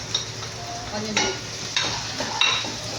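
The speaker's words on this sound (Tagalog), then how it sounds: "when the oil is hot, let's put garlic, ginger, and this onion leaf" Garlic, ginger and onion leaf fry in hot oil with a steady sizzle, broken by a few sharp spatula scrapes and stirring clatters close by.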